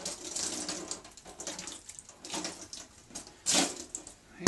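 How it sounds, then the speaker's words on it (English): Water splashing as a cup is rinsed, light uneven trickles and sloshes close by, ending with a brief louder splash. "Rinse this cup."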